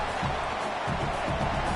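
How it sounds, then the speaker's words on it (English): A stadium crowd roars at a football game as the defense takes the field, a steady, dense wall of noise filling the space with no single voice standing out. "Listen to this crowd just shaking the girders of this place, trying to help their defense."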